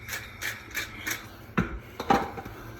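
Hands rub salt into raw salmon, producing soft, close rhythmic rubbing strokes about four times, then a couple of sharper handling knocks.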